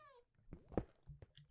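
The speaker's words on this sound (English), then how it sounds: "Those are cats, I think." Cats in Minecraft give a few short meows mixed with brief thumps, faint and close, with a voice speaking briefly.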